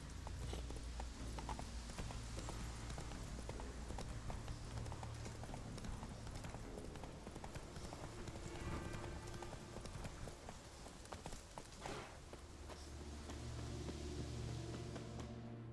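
Horse hooves clip-clopping at a steady galloping rhythm in The Witcher 3, loud and continuous with game ambience beneath, no talking.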